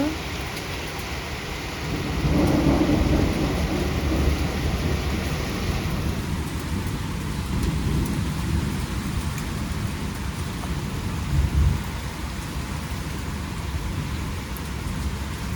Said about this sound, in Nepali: यत्रो पानी परिरहेछ